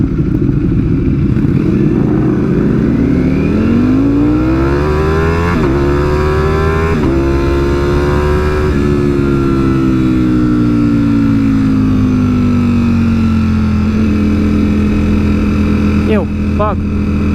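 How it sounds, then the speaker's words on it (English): A Ducati StreetFighter V4 motorcycle at speed on a group ride, its exhaust droning loudly and steadily with the pitch rising and falling through gear changes, while a rider talks over it. "It's too much exhaust with that bike."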